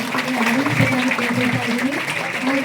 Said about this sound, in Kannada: ಎಲ್ಲ ಭಕ್ತಾದಿಗಳು ಚಪ್ಪಾಳೆ ಮುಖಾಂತರ